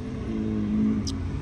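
A car drives past on a city street near a store, a steady mid-pitched engine hum that rises slightly and then fades, with a brief high hiss near the end.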